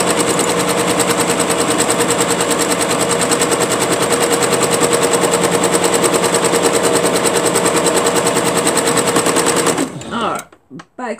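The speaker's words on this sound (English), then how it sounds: "When I sew it over, it will hold it." Sewing machine stitching fabric, running as a loud, fast, continuous mechanical rattle close to the microphone that stops abruptly near the end, followed by a few handling knocks.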